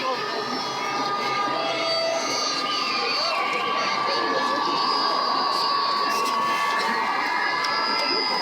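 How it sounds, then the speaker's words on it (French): A dense crowd at the Vendée Globe sailing race in Les Sables d'Olonne keeps up a steady, loud murmur of many voices, with scattered shouts and cheers rising from the mass throughout. "Regardez le monde, regardez la foule."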